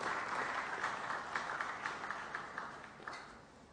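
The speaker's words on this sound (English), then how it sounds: "I request all of you to welcome Dr. S. Kiran Kumar with applause." An audience at a science festival session applauds to welcome a speaker, a steady patter of many hands clapping that holds for several seconds and slowly tapers, with no talk over it.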